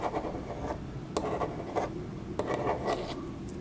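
A ballpoint pen that writes upside down and on wet paper scratches across paper in short rubbing strokes, close and fairly quiet, with no voices.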